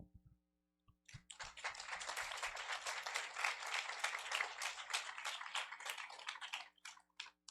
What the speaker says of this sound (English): So an applause to Cartagena and to all of you that are with us right now.